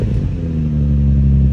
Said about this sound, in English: So the before right here, guys. Give it like a quick rev.